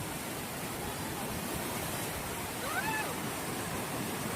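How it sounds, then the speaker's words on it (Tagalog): A strong river current rushes beneath a bridge during high water. It makes a dense, continuous roar with no break, and a faint tone briefly rises above it. "ang lakas ng agos po"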